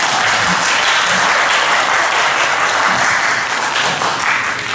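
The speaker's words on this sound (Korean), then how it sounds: "박수 한번 칩시다." A church congregation applauding during a Sunday worship service, a loud, steady wash of many hands clapping together that fills the space evenly from start to finish.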